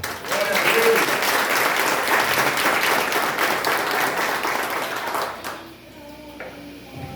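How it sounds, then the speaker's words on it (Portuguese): A church congregation applauds during a Sunday sermon, a dense, sustained roar of clapping that tapers off into quieter room sound near the end. "E você pode aplaudir Jesus de Nazaré"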